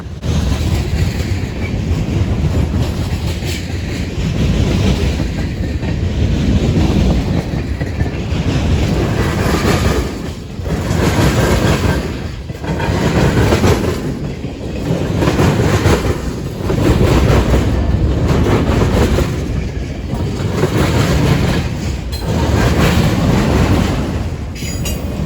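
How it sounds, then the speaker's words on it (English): CN freight train led by a Dash 9 locomotive, with loaded auto racks at the rear, rumbles steadily past close by, wheels clattering in a loud, continuous roar with rhythmic dips and faint squeals. "The rear of this train also had a massive cut of loaded auto racks."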